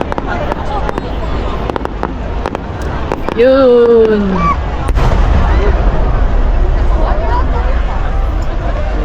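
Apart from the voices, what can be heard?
fireworks exploding at festival in Japan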